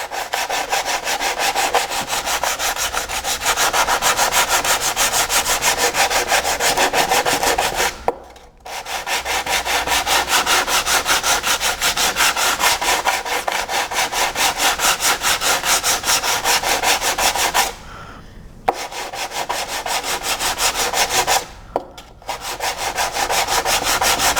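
Steady hand sanding of a Bondo filler repair on a racing shell hull, continuous rough rubbing strokes with two or three brief pauses, close and loud with no talk.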